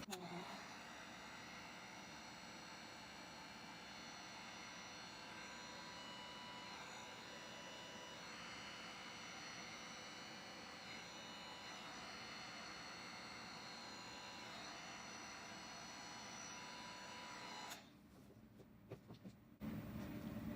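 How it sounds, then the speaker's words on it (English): A home air purifier runs with a steady, even whooshing rumble that fills the room, continuous and unchanging until it drops away near the end. "I also have an air purifier going on in here, so that's what you're hearing rumbling in the background"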